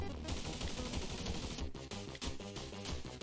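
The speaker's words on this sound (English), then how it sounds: "I want to finish him off with a gunshot" Rapid gunfire effects from the Sega Genesis video game Out of the Vortex, crackling in dense, continuous bursts over busy game music with no pauses.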